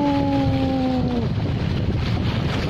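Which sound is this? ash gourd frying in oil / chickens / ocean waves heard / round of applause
ocean waves heard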